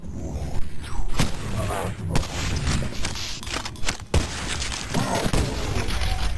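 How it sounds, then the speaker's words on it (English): Close-range shotgun blasts in the Cultic video game, sharp booming reports firing repeatedly over a dense mix of game noise and thuds, loud and near. "Close quarters shotgun."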